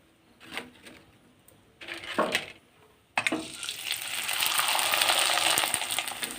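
Homemade flour papad drops into hot oil, starting with a few short splashy stirs and bursts, then breaking into a loud, continuous crackling sizzle close by.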